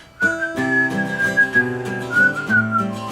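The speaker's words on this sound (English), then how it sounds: "if you can't play the harmonica, you could whistle." A clear, close whistled melody with sliding, wavering notes carried on a single bright tone, played alone.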